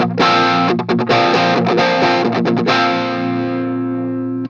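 Overdriven electric guitar through an overdrive pedal and an 808 playing chords and short riffs, thick and sustained with a gritty edge, ending on a held ringing chord.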